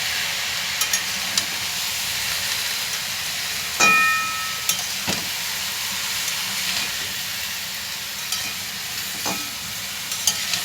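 Bori aloo posto, lumps of lentil dumpling and potato in poppy seed paste, sautéing in a pan with a steady sizzling hiss, broken by a few brief clinks and scrapes of stirring.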